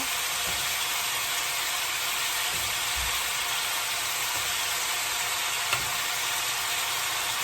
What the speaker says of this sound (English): Hear it sizzling away.